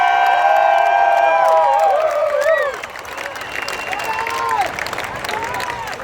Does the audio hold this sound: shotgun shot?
no